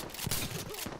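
Shotgun blasts in the tactical shooter game Insurgency: Sandstorm, a dense cluster of loud, sharp reports packed into a single second and stacked over a busy firefight.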